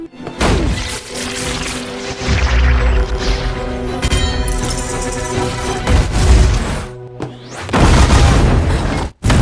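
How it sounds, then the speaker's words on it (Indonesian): A blue crystal explodes in the animated series Arcane: a loud booming blast with crashing, shattering debris, followed by rumbling and another heavy burst near the end; no voices. "tiba-tiba kristal biru itu meledak dan membuat Jace pingsan."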